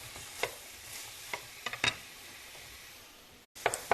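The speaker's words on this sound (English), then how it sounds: "Sliced onion goes in, and our garlic. We're just going to saute these until the onion turns clear." Sliced onion and garlic sautéing in a pan, a soft steady sizzle with a few sharp clicks of a utensil stirring, faint and close, no talking.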